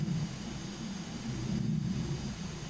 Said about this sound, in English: I still hear this goddamn fighter jet.